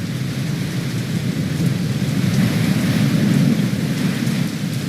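Steady heavy rain pours in The Dark Eye video game, with a deep rolling rumble of thunder swelling midway, loud and continuous with no voices.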